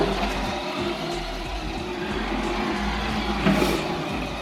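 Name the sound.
Horizon Hobby Warhawk RC truck at full throttle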